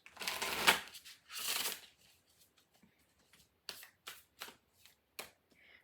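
Spellcasting oracle cards are shuffled in close, papery riffling bursts, two long sweeps first and then a run of short crisp flicks and taps, with no voice.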